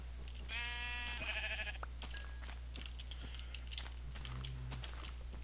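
Sheep bleat in a video game, several wavering calls close together early on, then fainter scattered clicks and game sounds over a steady low hum.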